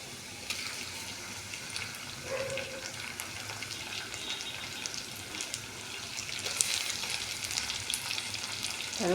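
Tomatoes frying in a kadai, a steady hissing sizzle throughout with occasional soft utensil scrapes, growing slightly louder toward the end.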